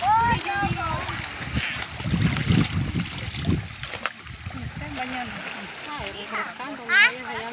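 Clothes being washed by hand in a river in Colón, Honduras, with wet splashing and sloshing of water and fabric under close, continuous conversation from women nearby.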